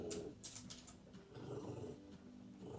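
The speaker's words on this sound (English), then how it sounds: "My dogs are growling in the background at nothing." Dogs growling low in the background of an indoor room, a faint rumbling growl with a few brief higher whimpering notes, steady and distant-sounding across the short span.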